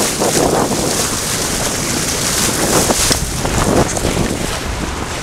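Strong wind buffets a sailboat at the start of a yacht club race, a loud, continuous roar of gusts and microphone wind noise with water rushing faintly beneath, no voices.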